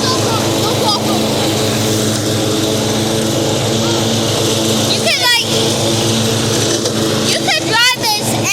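A ten-year-old riding lawn mower idles steadily with a low, even engine drone that runs throughout, with brief voice-like chirps breaking in near the end.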